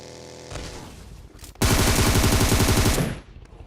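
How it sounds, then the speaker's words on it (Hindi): Dense rapid gunfire bursts out and rattles on loudly for over a second in PUBG, preceded by a few scattered shots and quieter game background sound. "इतने में ही पीछे गोलियां चल रही होती है"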